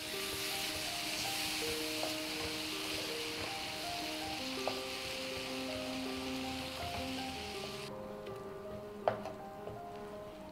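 Tomato puree sizzles in a pan of mushroom masala for veg mushroom keema, a soft continuous crackle with light stirring taps, under faint tonal background music. The hiss thins out near the end.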